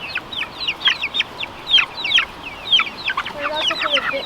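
Short clucks and squawks from a good-sized hen, one of a backyard flock kept near beehives, repeat in quick irregular bursts over steady outdoor background noise, close and moderately loud.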